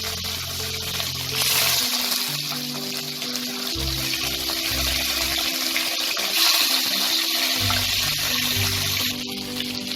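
Katla fish pieces frying one by one in hot oil, a steady broadband sizzle and bubbling that runs throughout with shifting intensity, loud and close, with low clatter from the pan underneath.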